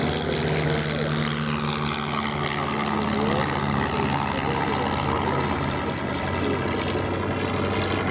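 A light propeller aircraft, a Piper Cub, drones steadily overhead at the Duxford air show, its engine a continuous loud buzz with a slowly shifting pitch and no voices.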